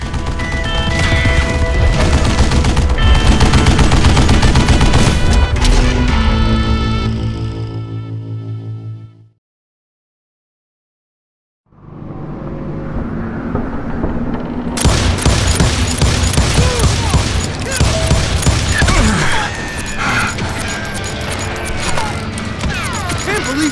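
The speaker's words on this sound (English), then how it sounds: "Kid Curry opened up on me with a goddamn Gatling gun" A Gatling gun firing in the video game Call of Juarez Gunslinger, loud sustained rapid bursts mixed with crashes and booms, broken by a brief silence midway before the heavy gunfire resumes.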